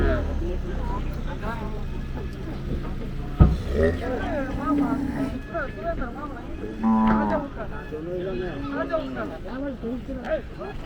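Cattle at a livestock market in Palayakottai, with cows and bulls lowing several times in moderately loud, drawn-out moos amid the busy murmur of a crowd and people talking nearby.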